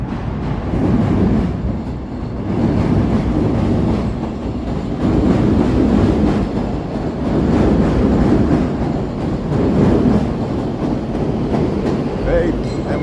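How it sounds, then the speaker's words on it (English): Chicago Pink Line elevated train rolling past on the city's elevated tracks, a steady loud low rumble with faint clattering that swells and holds for the whole stretch, close by, with no talk over it. "Listen to the sound of the train here"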